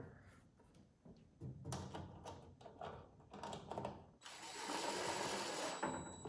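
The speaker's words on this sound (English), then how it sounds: "let's use the drill just to make it faster" Bursts of a power drill whirring in short runs as screws are driven while assembling a Blackstone storage and prep cart, with clicks and handling knocks between, ending in a longer sustained whine.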